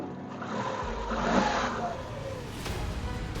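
A 2020 Tata Tiago XT petrol car engine is lightly revved at idle, a steady near hum that swells briefly mid-way and settles, with a faint engine shake and no other noise.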